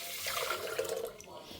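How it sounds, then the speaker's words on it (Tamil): Basmati rice is rinsed in water, a steady splashing and swishing of water running and sloshing through the grains, close and continuous for a moment. "இப்போ நம்ம இதை தண்ணி குத்தி அலம்பிடலாம்."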